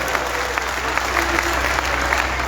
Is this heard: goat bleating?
no